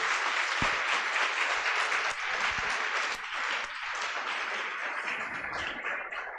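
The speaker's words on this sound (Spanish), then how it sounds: "Un fuerte aplauso." Audience applause after a lecture on mental health promotion and prevention in Panama, dense and sustained clapping that holds steady, then slowly thins toward the end.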